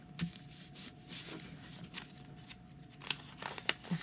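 A sheet of paper is folded by hand for a paper flower, with soft close crinkles and rubbing creases plus a couple of crisp sharper creases near the end, quiet and without speech.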